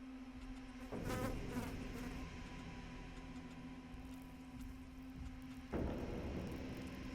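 A mobile phone buzzes in vibrating bursts during a game session, a steady droning hum with two louder onsets, close by with no talk over it.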